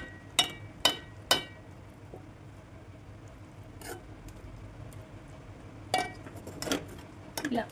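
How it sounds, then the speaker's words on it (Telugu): A spoon stirs omelette curry in a pan, giving a few sharp metallic clinks in a quick cluster, then a quiet stretch, then more scattered taps against the pan. The sounds are faint and close. "మిక్స్ చేసుకోవాలి. జాగ్రత్తగా కలుపుకోవాలి."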